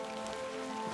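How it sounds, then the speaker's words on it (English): Steady rain in a video game patters on a surface, a dense continuous hiss heard alone alongside a faint sustained tone. "Rain."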